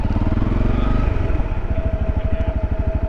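A motorcycle engine pulled hard in first gear during a wheelie, loud and close, with a throbbing roar that shifts into a fast, even pulsing beat as the revs settle.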